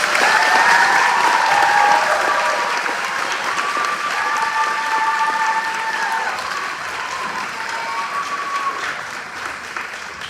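Parents and students at an elementary school fourth-grade celebration applaud loudly, a thick wash of clapping with a few whistles or cheers on top that slowly tapers off over ten seconds.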